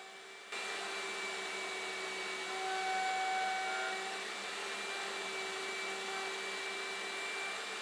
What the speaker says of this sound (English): I'm going to again use my horizontal mortiser.